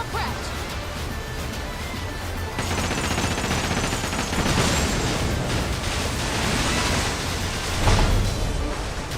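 Ship cannons firing in a pirate video game set up dense, rumbling volleys of booming shots that merge into a continuous loud barrage, with a heavier blast near the end.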